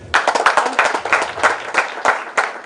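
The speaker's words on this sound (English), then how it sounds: "I want to applaud him for that" Audience clapping in uneven bursts, close and fairly loud, with a scattered rhythm of hands throughout, at a public event covered on an English-language news broadcast.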